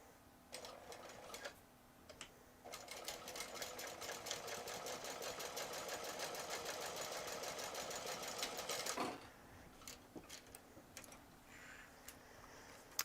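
A sewing machine stitches steadily across the bottom of a project, a close, even mechanical whir with rapid ticking that runs for several seconds before stopping, with a few short starts before it.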